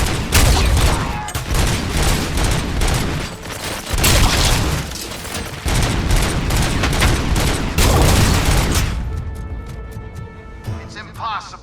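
Loud, dense gunfire in the RoboCop: Rogue City video game, sustained bursts with heavy booms for about nine seconds, then fading into mechanical ringing and electronic tones, with a voice speaking over the battle.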